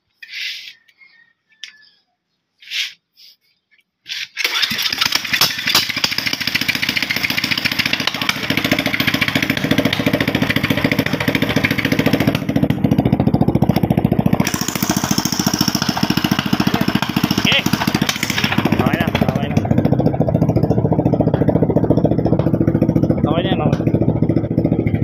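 A newly fitted engine starts up after a few seconds of quiet and keeps running loudly and steadily close by, a dense continuous drone with voices faint in the background.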